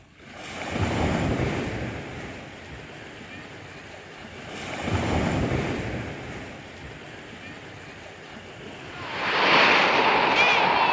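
Ocean waves break on a beach in slow surges about every four seconds, loud and near. Steady wind roars between them and buffets the microphone toward the end.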